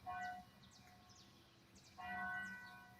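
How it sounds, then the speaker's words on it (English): A church bell next door rings at noon, faint and distant through an open window, in two clear ringing strikes separated by a quieter pause. "it's high noon at the church next door. Can you hear that bell?"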